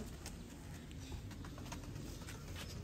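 Domestic pigeons cooing in a loft, a low throaty murmur running steadily throughout with faint scattered bird calls and background noise, no talking.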